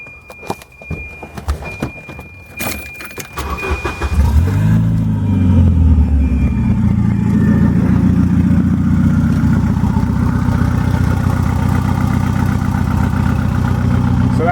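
A Volvo wagon's engine cranks and catches after a few seconds of clattering, then settles into a steady, loud, low idle rumble that continues to the end.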